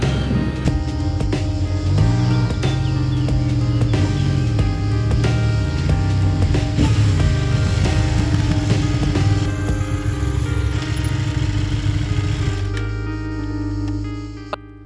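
CFMOTO 800 MT Sport motorcycle ridden at a moderate pace on a road, a continuous engine hum with rising and falling revs and wind rush, close and steady, no talking.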